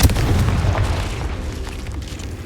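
A Confringo spell exploding in the Hogwarts Legacy game, a sharp booming blast at the start followed by a rumbling, crackling decay that fades over a couple of seconds, alone without talk.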